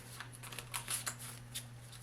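A deck of cards for a horror journaling game is shuffled in quick, soft riffling bursts, faint and close against a quiet room hum.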